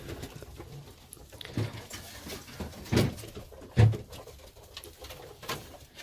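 Pigeons coo softly in a few low, throaty bursts, with light fluttering and shuffling in between, close by and otherwise quiet.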